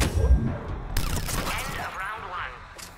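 Gunfire from the Mass Effect 3 video game: a sharp burst of shots at the start, then dense rattling fire and mechanical game effects continuing at moderate loudness while a person talks over it.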